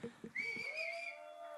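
Audience at a song launch event whistling, one sharp sustained whistle rising and holding over brief crowd noise, fairly near and loud.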